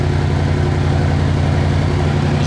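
A Mansory-tuned car at a Monaco supercar show with its exhaust valves open gives off a loud, dense, continuous low engine rumble held at a steady, throbbing pitch throughout.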